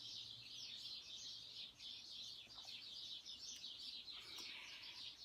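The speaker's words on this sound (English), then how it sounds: "Oh, and now there's a bunch of birds outside." Several birds chirp outside, steady high twittering running on throughout, faint and distant under a low background hum, with no voices.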